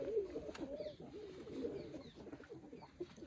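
Pigeons coo softly in a low, rolling, repeated warble, fairly close and alone with faint background chirps.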